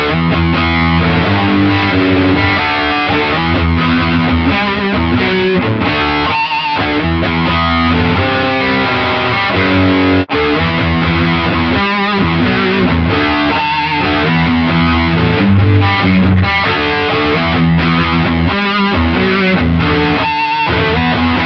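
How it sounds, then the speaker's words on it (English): A loud, heavily distorted electric guitar churns through a dense, driving heavy riff, thick chords ringing continuously with only brief choppy breaks. "add some distortion and play a heavier riff"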